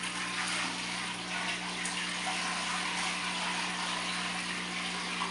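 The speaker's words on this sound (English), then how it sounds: "I just drained some of the salty water out of the bottom, and I'm gonna pour it back in the top here." Salty water from a biodiesel wash tank, drained out at the bottom, is poured back into the top, making a steady, continuous splashing pour at moderate level with a faint hum under it.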